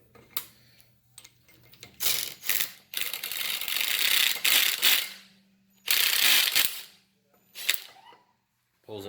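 A flywheel puller is threaded onto the magneto of a 2016 Yamaha YZ250F dirt bike, heard as several close bursts of rapid ratcheting clicks separated by short pauses.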